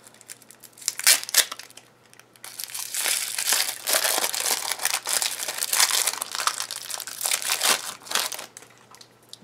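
Thin plastic packaging around washi tape being pulled open and crinkled by hand, a loud, close, continuous rustling and crackling with sharper tearing bursts.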